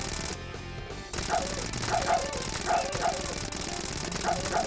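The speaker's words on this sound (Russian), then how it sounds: "Ребята, посмотрите, одни собаки." Dog barks and yips from the video game Tequila Zombies 2 repeat in short bursts over a steady electronic background, loud and close, with a voice speaking over part of it.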